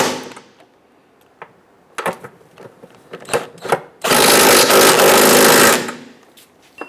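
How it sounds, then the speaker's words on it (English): Power tool tightening transmission mount nuts on a 2011-2021 Jeep Grand Cherokee 3.6L V6: a loud, steady burst of about two seconds, preceded by scattered clicks and clanks of tool handling. "ahead and tighten down our transmission mount nuts here."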